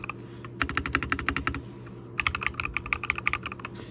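Quick bursts of crisp clacking come from fingers typing on a matcha green mechanical keyboard, close and clear, with a short pause before the rapid keystrokes resume.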